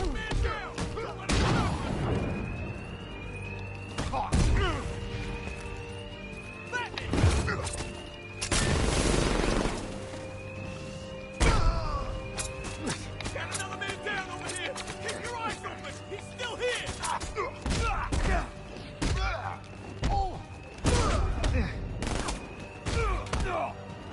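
Enemy gunfire in Batman Arkham Knight: bursts of rapid shots and sharp cracks scattered among heavy thuds and crashes of a brawl, loud and close, with someone talking over much of it.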